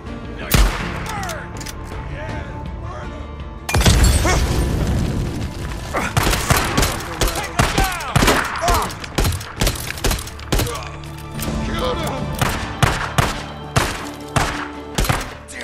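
Gunfire in the video game Days Gone, repeated loud shots and booms in uneven bursts with impacts and clatter over a dense, chaotic background.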